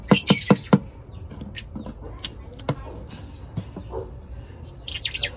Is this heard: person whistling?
no